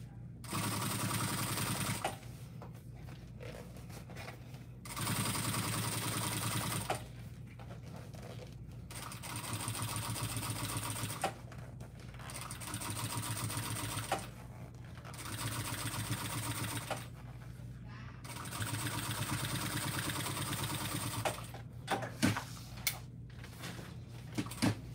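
An industrial sewing machine stitching fabric for a Barbie-inspired tote bag, running in steady whirring bursts of several seconds with brief pauses between, close and fairly loud, with faint background noise.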